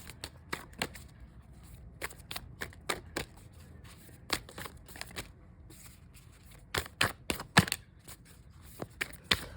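Tarot cards being shuffled by hand, a rapid run of crisp riffling flutters and soft slaps in irregular bursts, close and fairly quiet, with no talking.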